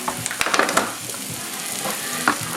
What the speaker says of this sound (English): this is going to be a shallow fry